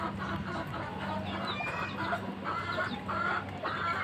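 Chicks cluck and peep softly in short bursts while eating grass, close by, with a steady low background hum.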